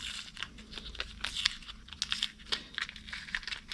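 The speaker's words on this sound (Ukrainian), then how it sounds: "треба здерти скотч" Close crackling and tearing, in short uneven bursts, like sticky tape being pulled and crinkled off a surface; adhesive tape peeled off a Jawa motorcycle piston; no voices.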